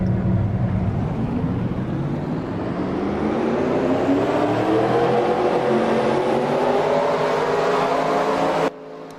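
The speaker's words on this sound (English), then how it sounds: "Drivers, start your engines." Race car engines in a CCS Snailsmans 400 event at the Widowmaker circuit fire up and rev together, a loud, dense, steadily rising roar that stays close and continuous before cutting back sharply at the end.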